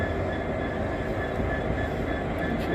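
A freight train rolls through a London station in a steady, loud, rumbling roar of wheels and cars, dense and continuous at close range throughout.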